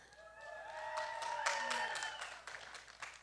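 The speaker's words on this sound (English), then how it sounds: "Let's give Oregon a big hand." A crowd at a guide dog puppy-raiser fun day opening ceremony claps for Oregon, the applause swelling then fading, mixed with voices and cheering over it.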